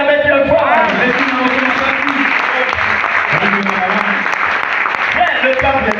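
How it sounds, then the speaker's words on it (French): A church congregation applauding loudly and continuously, dense clapping from a large crowd with voices and cheers mixed in throughout. "Acclamez Dieu fort."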